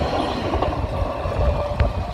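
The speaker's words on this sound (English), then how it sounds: "Oh, another train going south. I mean, another train coming." A train rolls by close at hand, a dense rumble of wheels on rail with faint clicks and a brief squeal, steady and loud throughout.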